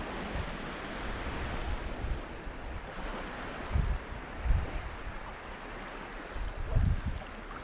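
Waves wash steadily against the Lake Superior shore near a campsite, with a constant surf hiss and occasional deeper thumps of water breaking close by, plus light wind.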